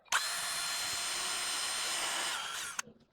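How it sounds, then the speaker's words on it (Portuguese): A power drill bores a hole in an MDF drawer front in one steady, high-pitched burst of almost three seconds that starts and stops abruptly. It is fairly quiet and no one speaks. "a gente vai fazer um furo na parte de baixo primeiro"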